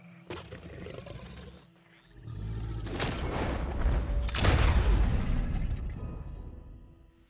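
A shotgun slug fired at an alligator while hunting in Red Dead Redemption 2, a heavy boom followed by a loud, rumbling roar and thrashing that swells and fades over several seconds.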